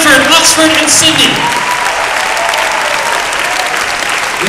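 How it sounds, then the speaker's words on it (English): A large audience at the World University Debating Championship grand final claps loudly for the finalists, strongest at the start and settling into steady sustained applause. "Give another round of applause, please, for the finalists of the World University Debating Championship"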